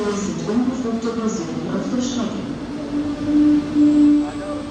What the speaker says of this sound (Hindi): गाइस अपनी ट्रेन आ चुकी है फाइनली।